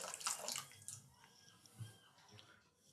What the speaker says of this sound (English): I saved some of the hot water and I'll use that to top it up so that it's just completely submerged